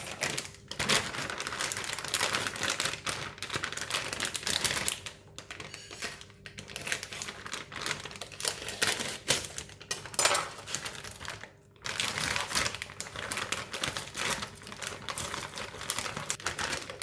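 Frozen crab balls, still icy, are cut with a kitchen knife during stir-fry prep, making close, steady crunchy scraping and clicking that runs throughout with two brief pauses; no one talks.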